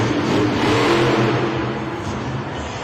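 Monster Jam zombie-themed monster truck engine revving hard during a two-wheel skills run in an arena, a loud, steady mid-pitched roar that holds throughout and eases slightly toward the end.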